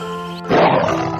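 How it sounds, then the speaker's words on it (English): A lion roars once, a loud, rough burst that breaks in suddenly after a steady tonal background and holds briefly before fading. "Lion,"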